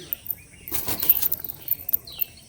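A pair of colour-matched green Giribaz pigeons flaps its wings in a brief burst of rapid feathery beats, fairly close, with faint chirps around it.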